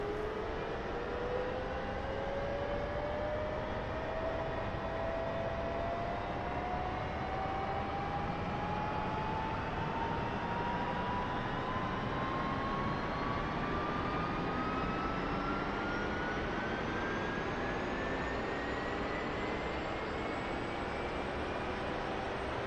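Aircraft engine in a flight-sim video game, a steady whine and roar climbing slowly in pitch as it spins up, heard alone at a low, even level.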